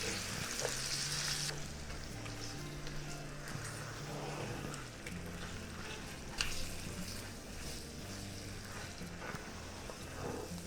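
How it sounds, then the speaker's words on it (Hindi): Ginger garlic paste fries in a pot for korma, giving a steady close sizzle with scraping stir strokes throughout and a faint voice in the background. "और इसके अंदर हम जिंजर गार्लिक पेस्ट डाल देंगे। तो इसको मिक्स कर दें।"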